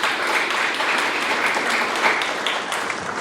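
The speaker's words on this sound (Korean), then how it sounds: "다시 한번 큰 박수 부탁드려요" An audience at a local literary concert honoring poet Yang Kwang-mo applauds a sung poem performance; sustained, fairly loud crowd clapping with individual claps standing out, tapering slightly near the end.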